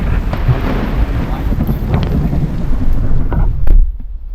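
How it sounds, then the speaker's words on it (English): A heavy outdoor thunderstorm with pouring rain and rumbling thunder, a loud, dense wash of rain and wind buffeting close to the microphone, with a deep roll of thunder building near the end. "This is raining really bad, storming really bad, thunder and lightning really bad."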